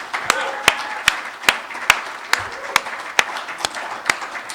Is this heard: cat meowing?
no